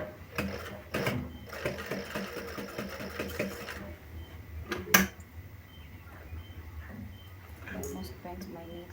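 A sewing machine stitches a sling bag in rapid mechanical bursts, with a sharp click in the middle of the run. Near and steady, with faint background noise.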